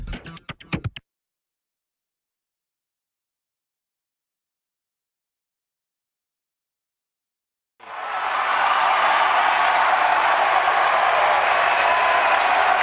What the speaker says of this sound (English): Raucous crowd at the Carey Center, and that's just for the national anthem